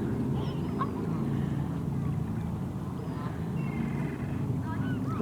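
Geese honk and call faintly over a steady low rumble at a lakeside state park beach in autumn, with ducks and seagulls flying around and scattered distant bird cries mixed into the hum.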